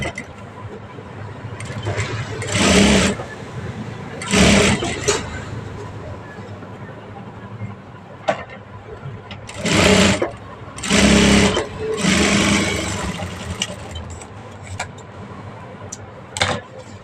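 A sewing machine stitches an old blouse in several loud bursts of running, separated by pauses and quieter handling sounds, with no talk over it.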